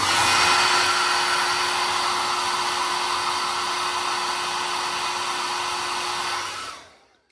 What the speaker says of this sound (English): just dry that off the hairdryer, excuse the racket.